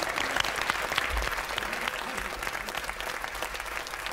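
Audience applause at a 1996 Norwegian 60th-birthday celebration show, steady dense clapping throughout, moderately distant and sustained without a break.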